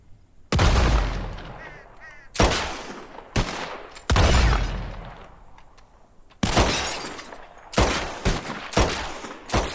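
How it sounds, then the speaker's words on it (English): Gunfire and shattering glass bottles crack out at a bottle-shooting contest in Red Dead Redemption 2, loud repeated shots arriving in bursts with brief gaps, each shot followed by breaking glass, and no talk over them. "Who can shoot the most bottles?"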